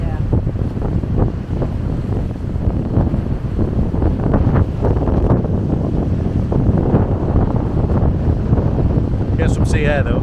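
Strong wind at Trearddur Bay roars and buffets the microphone without pause, with waves and surf rolling beneath, while people talk over it.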